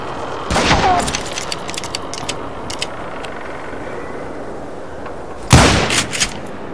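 Gunfire in the Western shooter Call of Juarez: Gunslinger: a loud burst of shots opens, scattered lighter cracks follow over a steady background rumble, and a second heavy volley hits near the end.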